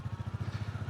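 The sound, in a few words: Royal Enfield Bullet 350 motorcycle engine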